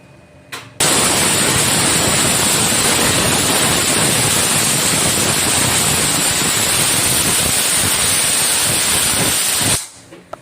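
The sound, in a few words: pressure cooker whistling and releasing steam while cooking ghee rice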